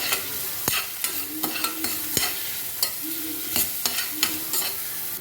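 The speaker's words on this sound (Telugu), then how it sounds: "ఉల్లిపాయ ముక్కలు, పచ్చిమిరపకాయ ముక్కలు దూరగా వేగాలి." Chopped onion and green chilli sizzling in a pan, a steady frying hiss with repeated sharp clinks and scrapes as a spoon stirs the pieces, close and alone.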